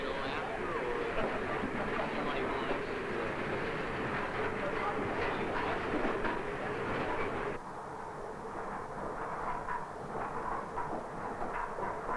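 A train runs along rails on a 1982 trip, with a dense, steady rumble and faint rhythmic clatter filling the whole stretch. The sound drops slightly in loudness and brightness about halfway through.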